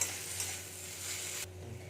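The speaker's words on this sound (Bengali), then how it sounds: "আদাটাকেও আমি একটু ভেজে নেবো" Crushed ginger sizzling as it is fried and stirred in a pan after garlic, a close steady hiss with scraping that cuts off sharply near the end.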